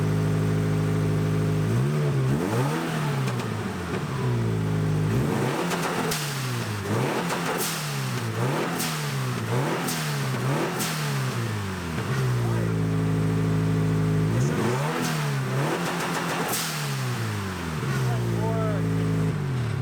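Turbocharged Subaru BRZ engine revs repeatedly with a raspy, buzzy tone, rising and falling in steady rhythmic pulls, close and loud, with people talking underneath.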